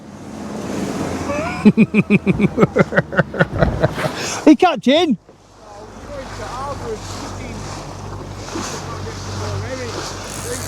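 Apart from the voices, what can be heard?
sea waves around a fishing boat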